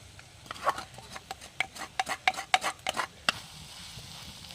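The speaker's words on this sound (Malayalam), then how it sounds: "അപ്പോൾ എല്ലാം കൂടെ ഒന്ന് ഇളക്കി യോജിപ്പിച്ച് കൊടുക്കുക" A curry in a pan is stirred after mild Kashmiri chili powder and other spice powders go in, giving a quick run of short scraping strokes against the pan with a faint sizzle underneath.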